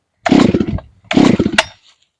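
A Farmertec G366, a clone of the Stihl MS361 chainsaw, is started on choke, giving two loud, short bursts of engine noise close by, each cutting out within about half a second.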